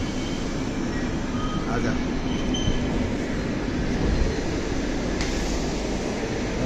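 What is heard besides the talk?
train stopping at a station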